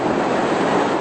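Atlantic Ocean surf roaring on the Georgia coast before Hurricane Dorian, a dense, steady broadband rush of crashing waves and wind buffeting the microphone, loud and unbroken.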